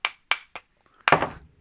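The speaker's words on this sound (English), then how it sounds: "using my plastic hammer." Plastic hammer tapping a part out during work on a Triumph Tiger 90 motorcycle: three crisp, evenly spaced knocks, then a slightly heavier final strike with a short ring, close up and with no talking.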